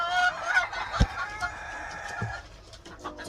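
Chickens cluck and crow over scattered clucks and bird calls while being fed cooked eggs, moderately loud and close with a brief rooster crow near the start and no voices.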